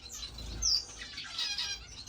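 Finches in a crowded cage in a bird room give a few faint, thin chirps that come and go against a quiet, low background rumble.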